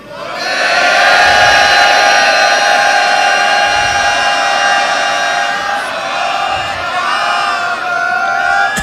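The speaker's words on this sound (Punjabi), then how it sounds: "ਇੱਕ ਜੈਕਾਰਾ ਸਾਰੀ ਸੰਗਤ ਮਿਲ ਕੇ ਗਜਾਓ।" A Sikh congregation at Takhat Sri Harimandir Ji Patna Sahib shouts a jaikara together, a loud sustained mass of voices holding the cry for several seconds with rising and falling swells.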